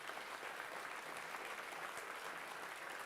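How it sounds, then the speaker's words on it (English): Faint, distant applause from a crowd at a student robotics competition, an even wash of clapping with no voices on top, quiet and steady throughout. "I think they all deserve a massive round of applause."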